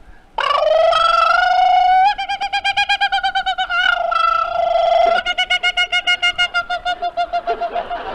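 A human voice imitates a kookaburra, with rising hoots that break into rapid rhythmic cackling bursts, loud and close, repeating in pulsing laugh-like phrases.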